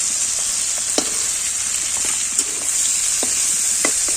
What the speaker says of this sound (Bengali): চিংড়ি মাছ তো বেশি ভাজতে লাগে না হালকা ভাজলেই হয়ে যাবে